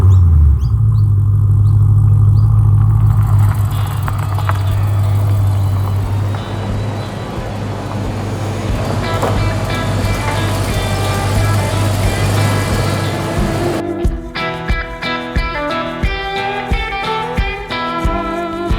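A car doing skids, with a loud engine revving and droning steadily, then tyre and engine noise turning into rough pulsing bursts near the end, close to the microphone.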